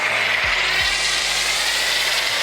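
A pressure washer runs loud and steady with a foam cannon attached, spraying in a continuous broadband hiss with a low motor hum beneath and brief pitch dips, no talking.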